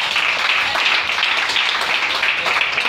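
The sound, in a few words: congregation applauding to acclaim the Lord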